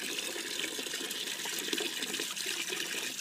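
Water splashed by a small child on a mat with an adult helping, a steady close wash of sloshing and trickling water throughout with no talk.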